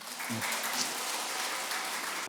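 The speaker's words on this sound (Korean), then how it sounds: "이렇게 와주신 우리 강묵 선배 스님한테 우리 박수 한번 보내주십시오." Audience applause for the senior monk Gakmuk at a Buddhist college lecture at Gilsangsa temple, a steady broadband clapping wash lasting about two seconds at moderate distance, ending abruptly.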